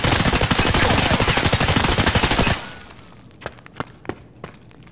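An M4 rifle in Escape From Tarkov fires a long, rapid burst that sounds loud and continuous for about two and a half seconds, then stops, followed by a few quiet mechanical clicks.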